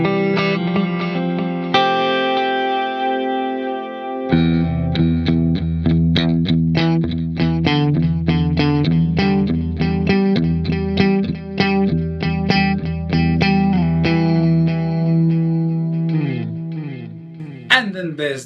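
An electric guitar plays through an 80s-style digital modulated delay pedal, with sustained chords followed by busy picked notes that repeat and shimmer in echoes, loud and up front.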